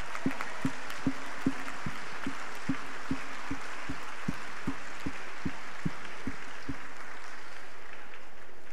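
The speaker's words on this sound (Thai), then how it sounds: "และขอเสียงปรบมือครับ" An audience claps at an AIA Thailand agency promotion ceremony in the evening, a crowd's steady wash of applause carrying a strong, even beat of about twenty rhythmic claps, moderately loud and without speech.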